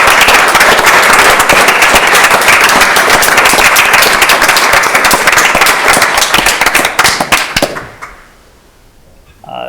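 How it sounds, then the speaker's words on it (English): A crowd gives loud, dense applause for fire and EMS trainees who finished their training. It is a steady wash of many hands clapping for about eight seconds, then it quickly dies away to near quiet. "A round of applause for these guys for going through the training."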